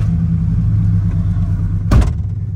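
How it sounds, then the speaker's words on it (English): A 23-year-old used truck with about 227,000 miles rumbles along on a test drive, a steady engine drone from inside the cab with a brief thump near the end. "Can we go for a test drive?"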